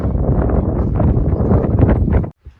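Heavy wind buffeting a microphone on a mountain stretch of the Appalachian Trail, a loud continuous roaring rumble that cuts off abruptly into near silence.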